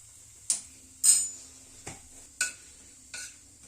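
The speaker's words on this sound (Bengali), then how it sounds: "হিংটাকে একটু নাড়াচাড়া করে নিচ্ছি।" A spoon stirs asafoetida in a pan over a very low flame, five separate metallic scrapes and taps spaced about half a second apart over a faint, quiet background.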